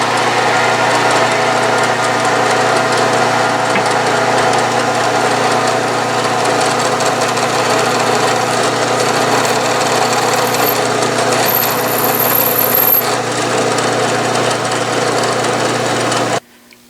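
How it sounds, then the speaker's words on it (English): Loud, steady milling machine drone with a constant motor hum and cutting noise as a center drill bores a pilot hole using the quill feed, then cuts off abruptly at the end. "I'm drilling using the quill feed as if it was a drill press rather than raising the knee."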